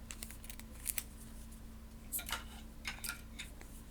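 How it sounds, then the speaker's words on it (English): Cards drawn from a deck during a solo tabletop board game, several short papery flicks and slides, quiet and close, scattered in irregular bursts. "Then we'll draw our 3 cards."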